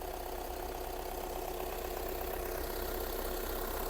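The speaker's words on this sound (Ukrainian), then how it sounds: "Робота двигуна." Steady idling of a 2011 Skoda Octavia A5 1.6 TDI diesel engine, a low, even mechanical rumble with a faint knocking rhythm, heard up close without speech.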